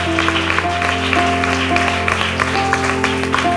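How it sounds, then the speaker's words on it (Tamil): Worshippers in a Tamil church service clap their hands in praise, a continuous, lively patter of many hands over held keyboard chords, filling the room without pause. "நல்ல நல்ல கைத்தட்டி ஆண்டவருக்கு நன்றி சொல்றேன்"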